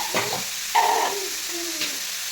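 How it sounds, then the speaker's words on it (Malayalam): Onion sautéing in a pan with garlic and green chili gives a steady, moderately loud sizzle, with a few brief tonal squeaks and soft knocks over the hiss. "ഉള്ളിയൊന്ന് നമുക്കൊന്ന് വഴറ്റിയെടുക്കാം."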